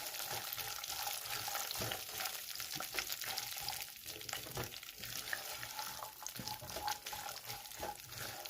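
Urad dal and peanuts frying in oil for a poha and cucumber breakfast, a steady close crackling sizzle with repeated scraping stir strokes throughout, no voices.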